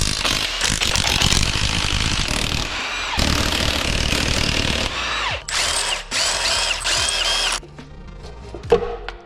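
A power ratchet rattles and buzzes in loud close bursts while removing 10 mm bolts from the rear cover of a 6.0L Powerstroke diesel engine, with short pauses between bolts and a few clinks at the end.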